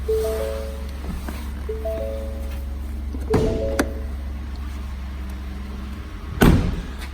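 The hood of a 2019 Ford F-150 XLT pickup is opened: short beeping chimes sound, then a few sharp latch clunks and a louder thud near the end, close by with no talking.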